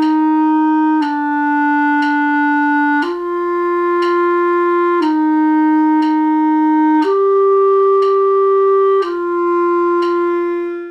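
Clarinet playing a slow, smooth exercise in thirds, sustained notes changing every second or so with steady air and no gaps, close and clear with no talking.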